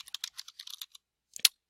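Keys clatter on a computer keyboard as a search is typed: a quick run of light, close clicks, a short pause, then a final cluster of sharper taps.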